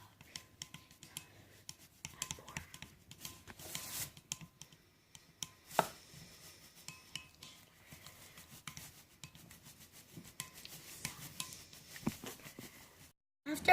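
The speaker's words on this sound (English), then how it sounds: "Just keep on mixing and it will come together" Homemade slime of glue and Tide detergent mixed in a bowl, with soft irregular scraping, rubbing and tapping close by and a few sharper clicks scattered throughout, no voices.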